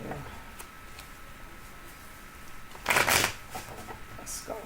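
A deck of Gilded Tarot cards is shuffled in one brief riffle burst near the middle of the clip, preceded and followed by faint ticks and quiet room noise.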